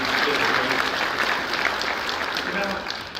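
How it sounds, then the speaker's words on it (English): Applause from a large audience at an evening event with Coach Boone, a dense steady roar of clapping that stays loud throughout and fades slightly toward the end. "And you can clap on that."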